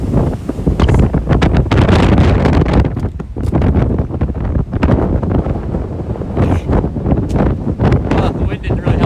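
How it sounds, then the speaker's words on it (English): Strong wind from a snow squall on the West Michigan shore in December buffets the microphone in loud, continuous roaring gusts that rise and fall throughout. "the wind didn't really help"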